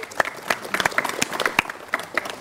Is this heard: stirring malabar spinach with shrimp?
no